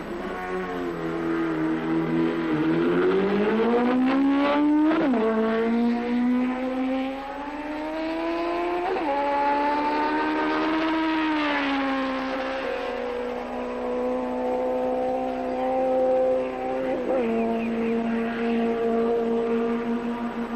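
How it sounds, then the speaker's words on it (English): A 1973 Kawasaki Z1 motorcycle engine screams through rising gears accelerating from a standing start on a track, each shift dropping the pitch before it climbs again, loud and sustained. "The Z1 is not only a smooth, powerful motorcycle, it sounds like a powerful motorcycle"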